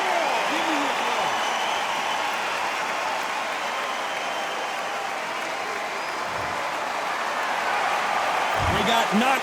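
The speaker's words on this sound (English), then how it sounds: "Give me your applause." Crowd applause in the boxing video game Undisputed, a steady, dense wash of clapping and crowd noise filling the whole stretch at even loudness, with a few brief vocal bursts near the end.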